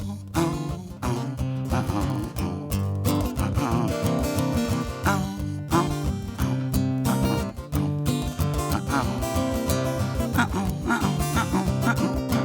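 Over a dense, loud musical backing, a dog yips, whimpers and barks repeatedly and rhythmically along with a traveling-themed song, blending into the instruments throughout.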